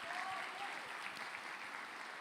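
Congregation in a church applauds its pastors, a soft, even wash of many hands clapping at a distance, steady throughout with no clear voices on top.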